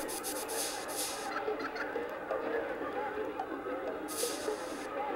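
Chicken clucks from the Secret of Evermore video game sound as quick, choppy bursts over a dense, noisy game soundscape, steady in loudness throughout.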